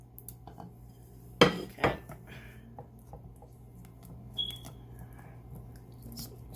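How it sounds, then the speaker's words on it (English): A spoon knocks twice against a pot of homemade chocolate pudding as vanilla and butter are stirred in, two quick metallic clanks followed by faint scraping and quiet kitchen sounds, with a brief word spoken. "we're gonna stir in vanilla and butter"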